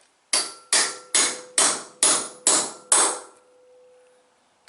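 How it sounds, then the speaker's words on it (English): Seven loud, evenly spaced hammer blows strike a large punch, turning a part as if tightening a wheel nut during a 1978 Chevy K10 square-body truck build, each hit ringing briefly before a quiet tail. "take a big punch or whatever you got and go like you would tighten a wheel"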